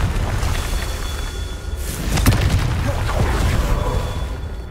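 A Confringo fire spell erupts in the Hogwarts Legacy game, a sharp booming blast with crackling burst that rises out of constant battle noise and lingers as a rumble.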